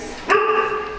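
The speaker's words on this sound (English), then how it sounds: "The dog wants to be in the video." A single sharp dog bark, close by inside a family home in Bogotá, with a short tonal ring trailing after it, over faint room noise.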